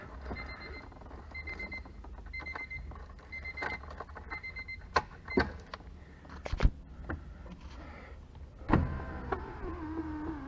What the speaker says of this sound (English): Window works. A little slow, but they're old.